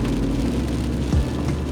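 Steady rain falls over the stone fort at Warangal, a dense even patter with a low rumble beneath it and a brief passing tone near the end.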